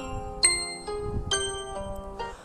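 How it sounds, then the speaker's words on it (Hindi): A ringtone plays from a mobile ringtone app: bright chime-like notes struck in a gentle rhythm of several tones, clear and close, with a soft low hum beneath. "मैं आपको सुना के दिखा देता हूँ एक रिंगटोन"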